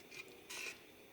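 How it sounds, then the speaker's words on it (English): A pot of milk is stirred lightly while it heats short of boiling, giving faint, soft scraping and clinking with one brief louder swish in the middle. "So you just want to continue to lightly stir it."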